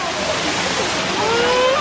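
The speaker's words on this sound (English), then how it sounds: "look at this waterfall." Loud, rushing waterfall roar, a constant broad hiss of falling water with faint voices mixed in.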